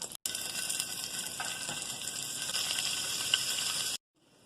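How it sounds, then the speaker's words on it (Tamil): Paneer frying in butter on a dosa griddle, a continuous close hiss and sizzle with faint crackles, holding steady for about four seconds before cutting off. "இப்போ தோசைக்கல்ல பட்டர் போட்டு நம்ம பன்னீர் இதுல வச்சிடலாம்."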